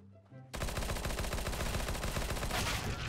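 Rapid, sustained automatic fire from a P90 submachine gun in CS:GO, a dense loud burst of shots running nonstop after a brief quiet lead-in.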